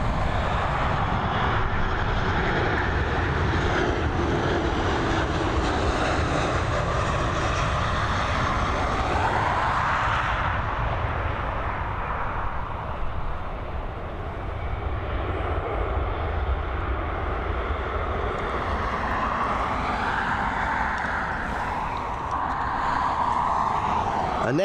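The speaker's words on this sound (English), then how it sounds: "A Boeing 737 coming in from Palma" A Ryanair Boeing 737 inbound from Palma lands at Dublin Airport, its engines producing a loud, sustained broadband roar that swells and shifts in pitch as the jet passes close by.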